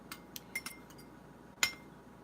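A spoon clinks against a glass container while stirring black salt, a handful of light, sparse taps with one sharper ring near the end, quiet and close.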